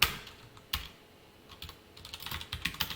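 Close, fairly quiet typing on a computer keyboard while entering CSS code, with a rapid irregular patter of key clicks and a couple of sharper taps, no talking.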